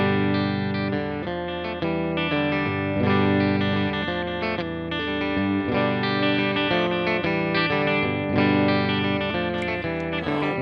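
An electric guitar on its bridge pickup rings out through a Fender Twin Reverb Tonemaster amp, a loud run of sustained notes and chords with effects and slight grit, played continuously without speech.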